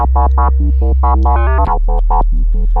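A Korg MS-2000 synthesizer plays with its mod sequencer switched on, producing a loud, steady run of short stepped tones whose pitch and brightness jump from note to note over a constant deep sub drone, with one brief dip midway.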